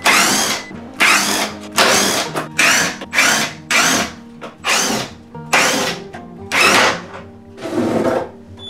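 A power drill runs in repeated short bursts, about a dozen whirring runs with pauses between, loud and close, while doors are taken off during a laundry room demolition.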